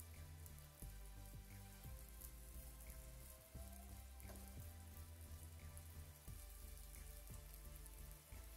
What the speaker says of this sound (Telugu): ఆయిల్ వేసుకున్నాను. ఇందులో కొంచెం కొంచెంగా పిండి వేసుకోవాలి.